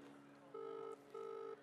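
Telephone ringback tone heard over a speakerphone, two long steady rings separated by a pause, fairly faint over a quiet room hum.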